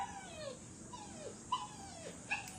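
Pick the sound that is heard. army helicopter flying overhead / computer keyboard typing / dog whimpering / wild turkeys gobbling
dog whimpering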